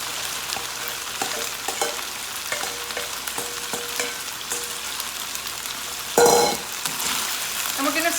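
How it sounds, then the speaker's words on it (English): Chicken with vegetables and celery stir-fried in a pan gives a steady sizzle under light scraping and stirring clicks, with a louder burst of sizzle and clatter near the end as food is tossed in. "And we're going to stir fry this, keep stirring for about 2 minutes."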